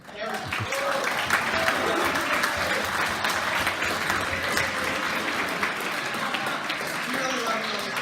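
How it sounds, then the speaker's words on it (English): Audience at a military ball cheering and applauding, a dense, steady wash of clapping and whoops sustained throughout at close range. "You guys can cheer again."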